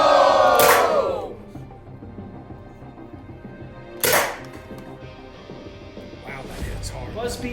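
A modded Nerf Mega Hotshock blaster loaded with Nerf Elite foam darts fires two sharp pops a few seconds apart, with a low voice and background noise in between.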